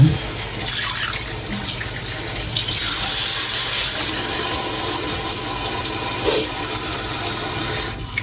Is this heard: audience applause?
no